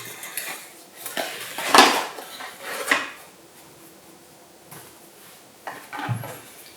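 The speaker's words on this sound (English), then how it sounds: "So I got this mini foldable camping stove." Metal clinks and rattles from a compact foldable metal camping stove being handled, a few clustered clanks near the start and middle, then lighter taps, close and fairly quiet with no talk.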